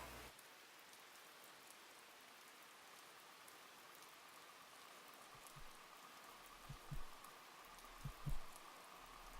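Rain in the video game The Music Machine, a steady wash of falling drops hissing evenly throughout, with a few soft low thumps appearing near the end.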